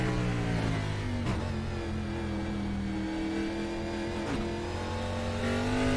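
The number 40 Chevrolet race car rolls through the Charlotte Roval in second gear, its engine a steady, loud drone with shifting harmonics and no talking.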